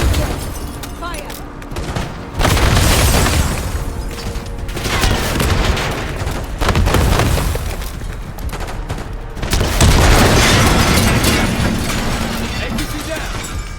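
Rocket launcher blast and explosion destroying an armored personnel carrier in Call of Duty: Black Ops 6, heavy booms and rattling gunfire filling a loud, continuous battle scene with voices shouting over it.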